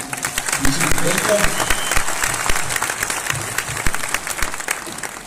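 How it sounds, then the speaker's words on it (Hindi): Audience applause fills a conference hall at an achievers' gathering, a dense, steady wash of many hands clapping for about five seconds, with some voices mixed in. "सब लोग उनके लिए तालियां बजाएं"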